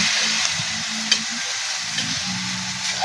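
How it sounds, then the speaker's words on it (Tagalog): Chicken gizzard adobo sizzles in a frying pan as it is stirred, with a steady hiss and crackle and a few scraping knocks from the spoon, near and alone. "Haluhaluin natin."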